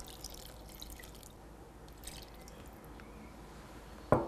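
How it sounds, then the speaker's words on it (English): Water poured into a pan holding pomegranate sauce in an Iranian kitchen, a quiet trickle with a few faint drips over soft background noise and a brief louder splash near the end. "And just a bit of water."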